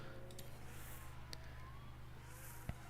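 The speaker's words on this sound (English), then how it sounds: "This is like based on what the cars are doing, the car sounds. Sort of. They are just generic sounds." Generic racing car engine sound from the F1 Manager 24 game running at 2x speed: a steady, faint droning whine with no clear gear changes, heard alone without talk.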